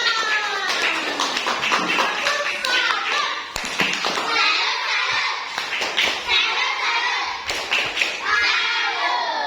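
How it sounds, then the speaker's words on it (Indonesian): Schoolchildren in a classroom clap for a group that has just presented, steady rapid clapping throughout with children's voices and chatter mixed in. "Oke, terima kasih tepuk tangan."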